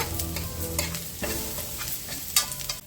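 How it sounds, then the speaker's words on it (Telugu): Ridge gourd peels frying in a pan while being stirred, a close, steady sizzle broken by repeated scraping strokes of a spatula. "ఇగోండి వేరకాయ తొక్కలు వేగిపోయాయి"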